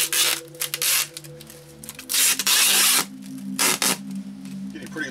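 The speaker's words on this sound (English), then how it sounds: "we're going to go around the entire body of the machine with strapping tape to reinforce all of that stretch wrap" Strapping tape is pulled off the roll and wrapped around the stretch-wrapped body of a Singer 201-2 sewing machine being packed for shipping, giving loud bursts of screeching, tearing noise between quieter handling sounds.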